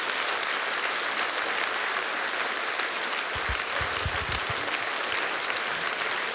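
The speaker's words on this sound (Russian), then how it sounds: "эти аплодисменты для тебя" A crowd claps at the Chanson Jurmala 2016 concert, a sustained, even wash of applause filling the hall for several seconds, with a few low thumps partway through.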